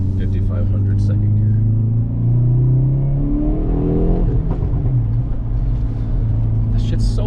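A stock 2021 Hyundai Veloster N accelerates hard in gear, its loud exhaust droning and rising in pitch from inside the cabin, dipping at a shift and climbing again, with people talking over it.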